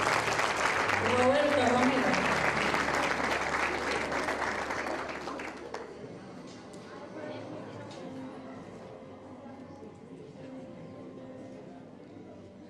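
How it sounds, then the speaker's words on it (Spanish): Applause at a university law graduation ceremony, loud and full at first and then fading to scattered clapping, with a voice over a speaker reading out a name. "y el aplauso, por supuesto"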